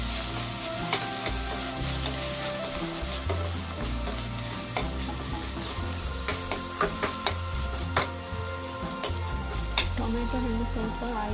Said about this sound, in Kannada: ಇದು ಆಯಿಲಲ್ಲಿ ಚೆನ್ನಾಗಿ ಸ್ವಲ್ಪ ಹೊತ್ತು ಫ್ರೈ ಆಗಲಿ